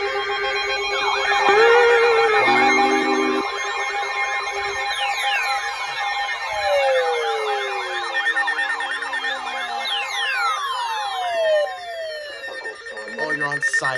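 An emergency alert device set to siren mode during Hurricane Idalia broadcasts, sounding layered warbling and sweeping electronic alarm tones that rise and fall continuously, loud and busy, with a muffled voice briefly audible early on.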